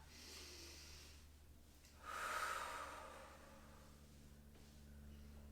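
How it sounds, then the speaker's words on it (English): One slow, deep breath, drawn in and let out softly at close range during a foam-ball rollout of the feet and legs, with quiet stillness before and after. "Take one more big breath."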